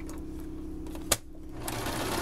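Sewing machine stitching a zigzag through fabric for a baby changing mat, a close, rapid mechanical whirring rattle running steadily with one brief sharp click partway through.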